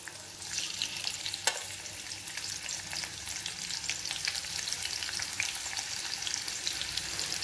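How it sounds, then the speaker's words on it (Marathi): Chopped onion dropped into hot tempering oil, crackling and sizzling steadily in a pan with occasional stirring scrapes, close and continuous without any talk. "आता त्यामध्ये मी हा कांदा घालणार आहे फोडणीला"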